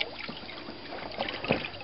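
Runoff water trickling back into a tank from a fiberglass trash can set just below the tank's maximum water level, a steady close dribble with brief louder splashes.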